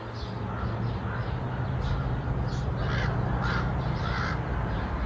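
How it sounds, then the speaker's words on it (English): Crows cawing outdoors, a series of repeated harsh caws at moderate distance over a steady, loud wash of background noise. "I call for more birds over here."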